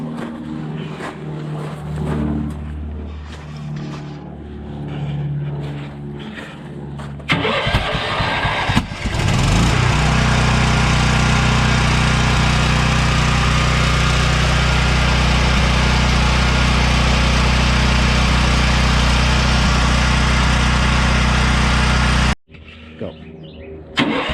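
A single-stage snowblower engine, from either a 2012 Craftsman by MTD 21-inch or a Toro 826, cranks with a few rhythmic pulls, catches, and runs at a loud, steady roar for over ten seconds before cutting off abruptly.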